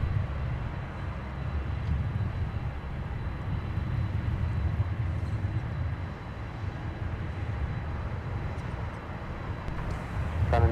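Airliner diverted to Minneapolis–St. Paul airport departing back to Chicago O'Hare, a steady distant low engine rumble sustained throughout with no talk.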